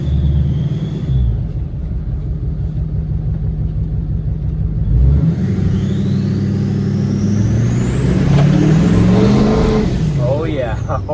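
A GM Duramax diesel pickup truck engine rumbles and revs up under acceleration, a deep steady drone rising in pitch with whine, heard from inside the cab; a voice speaks briefly at the start.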